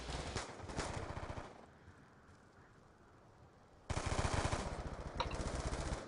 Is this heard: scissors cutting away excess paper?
no